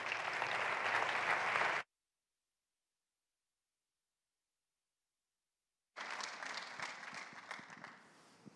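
Audience applause at a Spanish basketball Hall of Fame 2023 gala as an Andalusian regional tourism and culture official is welcomed, two bursts of dense clapping split by a long silent gap.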